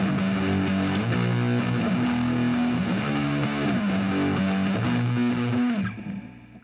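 An acoustic guitar played through a lightly cranked distortion effect chugs through repeated chords in a steady rhythm, buzzy and sustained, before the sound cuts away near the end.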